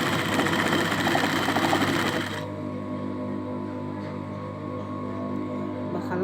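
A sewing machine runs steadily while stitching fabric for a children's outfit, a close, continuous mechanical whir that drops to a softer, lower hum after about two seconds, with no talking.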